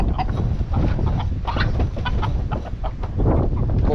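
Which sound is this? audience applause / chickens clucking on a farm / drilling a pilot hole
chickens clucking on a farm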